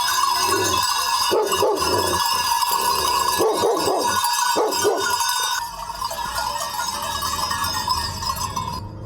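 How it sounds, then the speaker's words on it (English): Several dogs bark in repeated bursts, loud and fairly close, outdoors in Sardinia, Italy; the barking clusters in the first half, then fades into steady background noise. "Even here the bloody dogs are against us, man."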